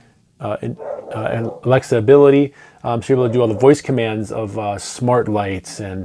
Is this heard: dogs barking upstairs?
yes